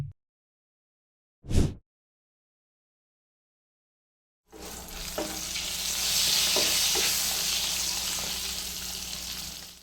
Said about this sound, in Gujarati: અને હવે કવર કરી 3 મિનિટ સ્લો ફ્લેમ પર થવા દઈએ. વચ્ચે વચ્ચે તમારે ચલાવતા રહેવાનું છે.